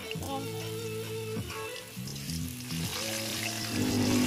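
Pieces of tofu frying in a pan for an Ilokano pork and tofu dish, giving a steady close sizzle throughout with faint clinks and stirring.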